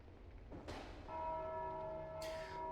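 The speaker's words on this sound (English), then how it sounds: "I'm ringing a bell a bajillion times so it doesn't blow out people's eardrums" A bell in the video game Dark Souls 2 rings with a bright struck attack and a long humming resonance, then is struck again, fairly quiet and with no talk.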